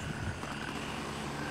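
Helicopter flying over the Ban Pa map in a survival shooter game, a steady rotor and engine drone that holds at an even level throughout the short stretch, with no talk over it.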